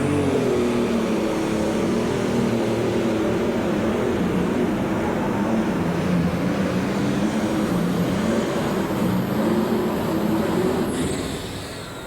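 A John Deere pro stock pulling tractor at a 10,200 lb class tractor pull in Louisville, Kentucky, its engine roaring loud and steady for several seconds before tapering off slightly at the end, with no talk over it.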